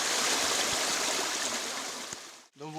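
Water of a small stream flows in a constant, close rushing babble, ending abruptly as a voice begins to speak.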